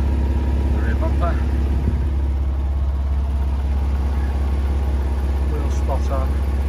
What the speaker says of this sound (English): Got a nice sound coming from the exhaust.